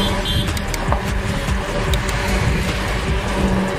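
Road traffic passes close by, a dense rumble of vehicles with a few brief rattles and whooshes across a few seconds.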